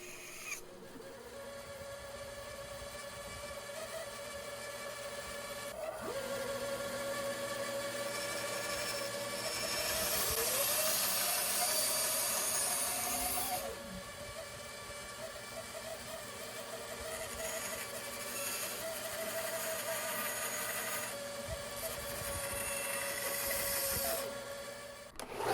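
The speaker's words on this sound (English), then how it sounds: "now I'm done with the bandsaw and getting the basic shape out" A bandsaw cuts a curved ash wood scoop with a continuous, fairly loud mechanical whine and hum, and the cutting pitch shifts as the blade follows the curve through the workpiece.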